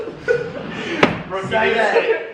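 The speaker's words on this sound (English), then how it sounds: "Close the door." A pantry door slams shut once with a sharp, close thud while people talk before and after it.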